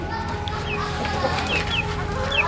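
Silkie and other hens clucking nearby over a steady low hum, with a few higher chirps and squawks scattered through.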